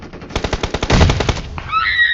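Loud, rapid gunfire from a shooter video game, a burst of about a dozen sharp shots fired in quick succession, followed by a brief ringing electronic tone, with no talk.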